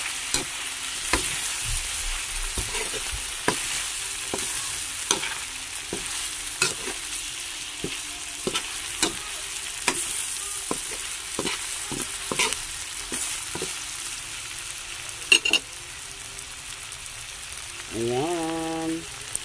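Chicken with bottle gourd and tofu being stirred in a frying pan: a steady sizzle runs throughout, with a regular series of spatula scrapes about once a second, close and fairly loud, and no talking.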